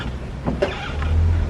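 A 15-ton safari truck crosses a bridge on the Kilimanjaro Safari at Animal Kingdom, a steady low engine rumble close by with a few brief knocks and clunks over it.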